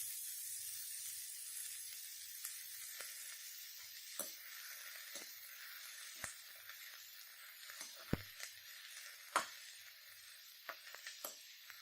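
Steady hiss of chilies, French beans and capsicum sizzling in a hot pan, with scattered sharp pops and crackles throughout; no voices.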